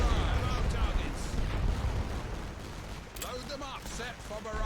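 Artillery in The Great War: Western Front booms and rumbles in heavy low thuds, layered with scattered blasts, while a voice talks over the later part.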